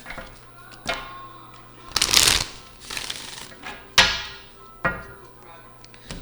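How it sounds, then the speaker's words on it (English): A deck of cards is shuffled in several crisp riffling bursts, separated by short pauses and sharp taps, close to the microphone. "So let me give it one more good shuffle and we'll see."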